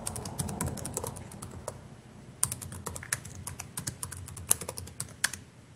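Password being typed on a computer keyboard at a workstation: a steady run of sharp, close key clicks, irregular in rhythm, with several louder isolated taps and no talking.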